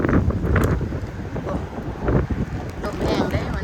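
Wind gusts buffet the microphone outdoors in a rough, uneven roar that swells and dips, loud and close, with faint voices mixed underneath.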